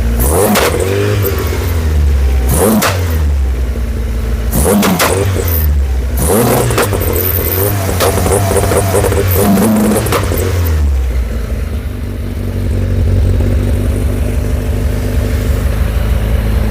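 A loud Skoda Estelle 120 engine revs hard several times with sharp pops and crackles as the exhaust spits flames, then settles into a rough, rumbling idle.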